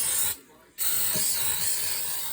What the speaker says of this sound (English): spray some disinfect there